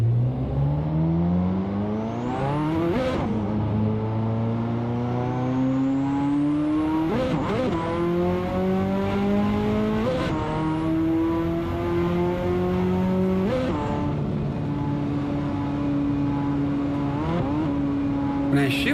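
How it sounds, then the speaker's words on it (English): A classic Ferrari in the Assetto Corsa racing game climbs through the revs, and each gear change brings an odd high whistling sweep and a sudden drop in pitch, repeated about five times in a loud, continuous engine drone. "When I shift the gears on it, it makes a weird sound though."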